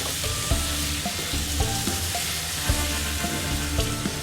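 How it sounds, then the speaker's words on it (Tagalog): Prawns and squid sauté in a hot pan, a steady close sizzle with periodic scraping and knocking of a utensil stirring the seafood, with no talking. "Igigisa natin siya para talagang mawala yung kanyang lansa."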